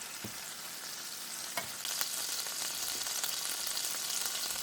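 Seafood sizzles steadily in a paella cooking pan, a continuous close hiss of frying with a brief stir or scrape partway through, with no voices.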